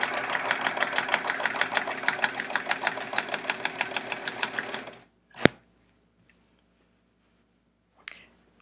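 A domestic sewing machine free-motion quilting, running fast with a dense, even rattle of stitches for about five seconds, then stopping, with two sharp clicks in the quiet afterward.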